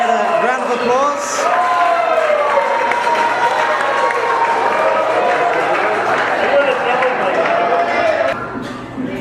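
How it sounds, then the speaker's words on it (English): A wedding reception crowd gives a sustained round of applause with some cheering as the father of the bride is welcomed up to speak, loud and steady before tapering off near the end. "So if we can get a round of applause."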